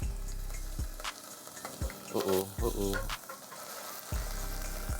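Ginger fries in oil in a pot, a steady sizzle broken by several loud low thumps and scrapes as it is stirred, with a brief burst of harsher bubbling in the middle.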